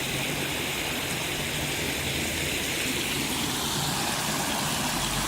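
Fresh water spills out of rocks at a creek, a steady broadband rush and gurgle that runs unbroken and fairly close throughout.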